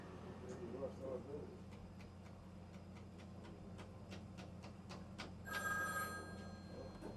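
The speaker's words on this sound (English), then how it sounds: "Beep, beep, pick that phone up." Repeated bursts of an old telephone bell ring at a steady rhythm in a room, moderately loud against a low background hum, growing busier near the end.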